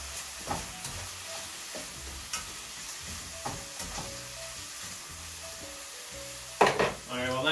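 Bell peppers hit a hot pan with steak and onions, a steady crackling sizzle running under occasional spatula scrapes and stirring knocks, with a louder clatter near the end.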